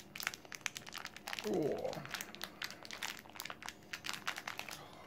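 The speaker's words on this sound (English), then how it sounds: "Next time I'll bring some scissors along, so I don't have to destroy the packets like this." Plastic gummy bear packets are torn open by hand, giving a loud burst of crinkly ripping in the middle of a run of sharp crackles and handling noises, with a brief voiced exclamation.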